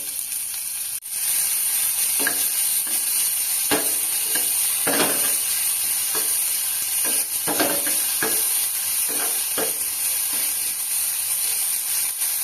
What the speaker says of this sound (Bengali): যে পেঁয়াজগুলো কুচিয়ে রেখেছিলাম সেটাই দিয়ে ভালো করে ভেজে নেব